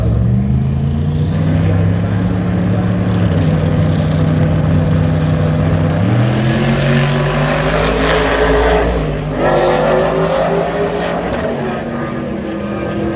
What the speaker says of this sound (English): Carolyn, a big time bracket racer in that Fool's Gold Trans Am.